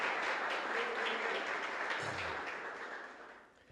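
A church congregation applauding during a worship service, dense sustained clapping that fills the room, then fades out over the last second with a brief voice in the middle.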